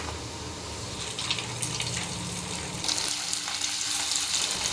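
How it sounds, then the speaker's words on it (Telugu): Chicken pakoda pieces frying in hot oil, with a steady close sizzle and crackle that grows a little busier partway through, with no voices. "ఇప్పుడు మిగిలిన చికెన్ని కూడా ఆయిల్లో వేసుకొని ఫ్రై చేసుకోవాలి."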